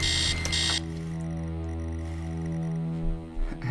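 An alarm clock blares upstairs in a retro horror video game, a steady droning electronic tone that holds throughout, briefly broken by soft thuds near the end.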